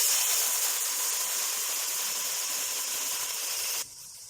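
Water poured into a pan of frying onions with garam masala for chicken pulao sets off a loud, steady sizzle and steaming hiss that cuts off sharply near the end.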